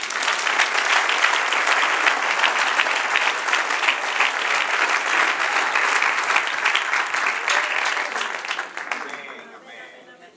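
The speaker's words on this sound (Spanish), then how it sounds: "Denle un aplauso al Señor de la gloria." A church congregation bursts into sustained applause, a thick, even wash of many clapping hands lasting around nine seconds before fading out quickly at the end.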